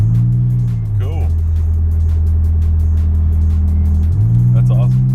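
A right-hand-drive 1993 Nissan 300ZX Twin Turbo cruises on the road with a steady engine drone that briefly dips and then climbs again as the cruise control adjusts, with talk over the engine noise.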